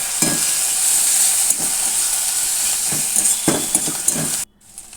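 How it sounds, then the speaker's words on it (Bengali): Ginger-garlic paste with a splash of water stirs and sizzles in a pan, a steady frying hiss with repeated spoon scrapes and clinks against the metal, close and continuous until it cuts off near the end. "জল দিয়ে এবার নাড়াচাড়া করে আমি এটা কষিয়ে নেব"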